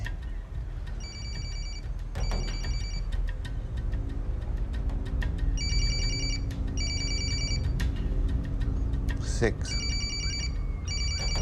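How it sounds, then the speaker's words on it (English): A telephone rings in a disaster thriller film, with three separate bursts of rapid double rings that come through clearly over continuous talking. "the phone rings."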